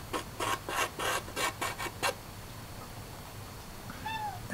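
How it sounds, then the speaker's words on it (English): A domestic cat gives a short, faint meow near the end, after a run of rhythmic scraping strokes of pastel on paper. "You're a sweet kitty."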